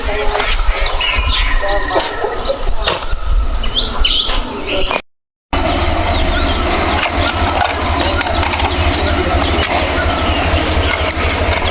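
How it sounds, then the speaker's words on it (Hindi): Small birds chirp and tweet on a mountain morning, with scattered high calls over a low engine hum and rustling background, and a brief moment of silence partway through. "चिड़ियों की चहचहाहट के बीच"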